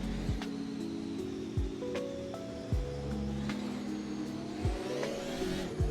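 Race cars in the Assetto Corsa racing game accelerate together after a rolling start, engines droning and revving in layered pitch sweeps, with several cars passing close by in succession.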